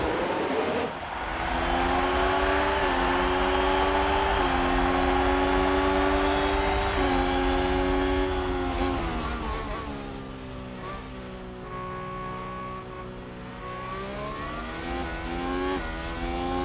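Formula 1 cars roaring away at the start of the Italian Grand Prix in the F1 Manager 22 racing game, a loud sustained engine howl with shifting revving pitches and layered cars, no talk.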